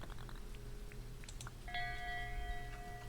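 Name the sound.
bell ringing in the Dinkum video game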